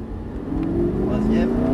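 A Lamborghini LP 560 on the Circuit du Luc race track pulls away with a steady engine drone that rises gradually in pitch, while a voice speaks over it.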